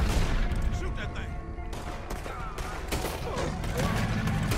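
Gunshots fired at an alligator in Red Dead Redemption 2, loud repeated shots over dense game sound, with a player's voice talking over them.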